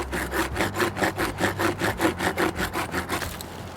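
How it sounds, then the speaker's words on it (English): An Aclim8 Combar folding saw cuts through a thin pine branch near the base of a tree, with a steady back-and-forth rasp of about a dozen quick, even strokes, close and clear and with no talking. "and start sawing."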